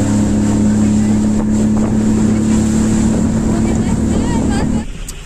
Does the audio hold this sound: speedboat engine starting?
yes